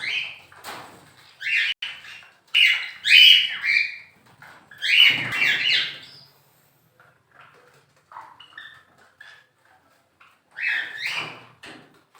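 Small caged birds including cockatiels squawk and chirp in a small bird farm at feeding time, bursts of shrill calls separated by quiet gaps, fairly close with no speech.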